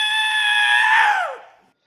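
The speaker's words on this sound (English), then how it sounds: "Good heavens, those awful screams." A shrill, sustained scream from a horror audio drama, loud and unbroken for over a second before sliding downward in pitch and trailing off, with no talk over it.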